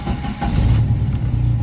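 A warmed-up 1986 Jeep Comanche truck engine idles steadily close by, a low rumbling hum with no voices.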